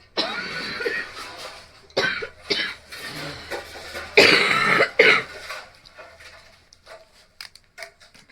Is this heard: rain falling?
no